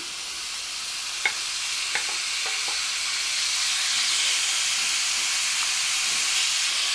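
Chicken pieces sautéing in olive oil in a hot frying pan, a steady bright sizzle with a few soft clicks of stirring, continuous and close.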